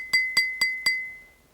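Four even taps on a half-full glass of water produce bright, sustained ringing pings at a somewhat higher pitch, heard up close with no talking.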